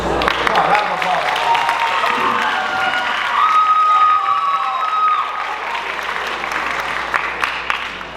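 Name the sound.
round of applause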